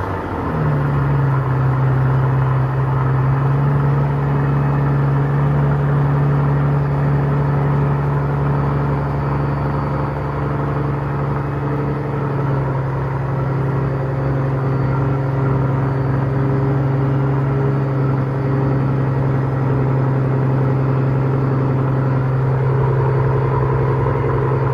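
A Mercedes-Benz CL65 AMG engine idles steadily nearby with a low, even hum and rumble that holds constant throughout, with no talking.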